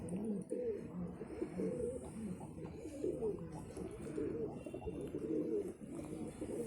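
A pigeon about seven or eight years old coos in a continuous low, throaty, rolling burble close by, with people talking faintly in the background.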